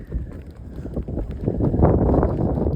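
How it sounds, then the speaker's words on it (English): Steady wind buffeting a microphone, a low rumbling roar that swells louder toward the end, with no voices. "It's very windy"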